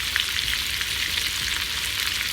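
Burger sticks frying in a pan, giving a steady, close crackling sizzle that holds at an even level throughout, with no talking.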